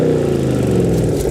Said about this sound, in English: it made this 580 horsepower track weapon of a Camaro